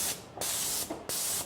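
Graco 490 XT airless paint sprayer firing paint at 2,000 psi, two loud hissing bursts of spray, each cut off sharply, with brief quiet between them.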